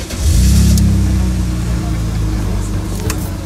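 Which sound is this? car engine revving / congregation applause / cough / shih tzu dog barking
car engine revving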